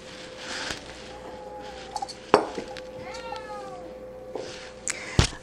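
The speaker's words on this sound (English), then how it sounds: "we're being serenaded by our cat right now" A house cat meows in a run of short, rising calls indoors, close by, with a few clinks of dishes and background room noise between the cries.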